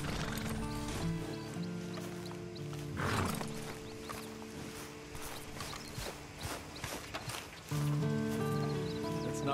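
Horse hooves clop at a walking pace in a Western open-world game, soft and uneven under a sustained musical backdrop, with a brief whinny-like burst.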